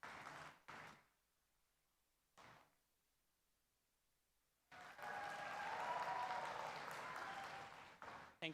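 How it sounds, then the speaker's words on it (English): Audience applause at a Techfest event at IIT Bombay, a loud, dense burst of clapping that rises after quiet gaps with a few brief thumps, continuing steadily for several seconds. "Please have a huge round of applause."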